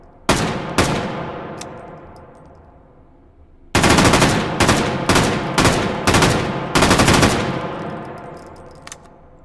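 An FAL rifle fires in the VR game H3VR: two sharp, loud shots with ringing tails, a brief lull, then a rapid string of about seven close, booming shots, each trailing off in echo.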